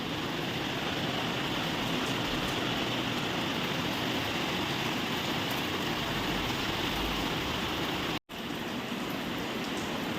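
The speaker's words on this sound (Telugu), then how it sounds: "వర్షం అయితే మస్తు పడుతుంది ఇప్పుడు" Heavy rain pours down in a steady, dense, continuous hiss that stays even throughout, with a very brief dropout near the end and no voices.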